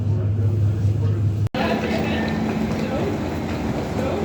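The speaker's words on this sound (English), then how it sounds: "I can already see the train in the distance I want to spot" A train rumbles along the rails nearby at Venlo station in the Netherlands, a steady mechanical roar with a brief cut partway through, continuing loud to the end.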